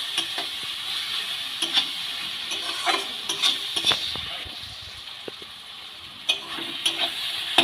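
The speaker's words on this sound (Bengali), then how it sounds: "মশলাটা দিয়ে টমেটো পেঁয়াজটা খুব ভালো করে কষিয়ে নেব।" Tomatoes and onions fried with chili powder masala for dhaba-style egg tadka, sizzling steadily as a spoon stirs and scrapes the pan in repeated clattering strokes, close and moderately loud.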